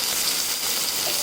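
Chicken sizzles in a pan as a steady, bright hiss of frying, loud and continuous for a brief moment with no voices.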